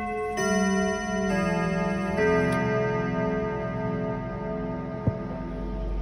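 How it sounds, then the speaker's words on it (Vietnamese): A Kieninger C282 floor clock strikes its quarter-hour chime indoors, loud ringing tones that sustain and overlap while a faint ticking continues beneath, with one sharp click near the end. "chuông 15 phút đây"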